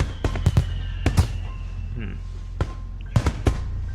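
Sharp video game firework bursts crackle and boom in irregular clusters, several loud pops close together over a steady low rumble.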